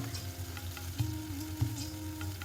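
Ground turmeric, chili and coriander sauté with ginger and garlic in a pan, a soft close sizzle with a low steady bubbling and two light spoon knocks, no voices.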